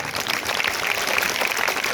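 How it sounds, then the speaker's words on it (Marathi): Steady applause from an audience at a Marathi literary guidance event held on Reading Inspiration Day, a dense, continuous wash of clapping at even loudness for the whole span with no voices over it. "एकदा जोरदार टाळ्या"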